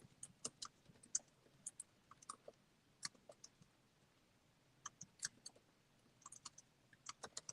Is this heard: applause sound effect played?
no